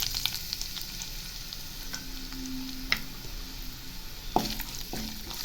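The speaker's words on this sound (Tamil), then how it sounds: "இப்போது வெங்காயம் போட்டுக்கலாம்." Onions sizzling in hot oil with a little fennel seed in a pan while cooking bread upma, a steady crackling fry with a few sharp stirring clicks and taps, close and moderately loud, no one talking.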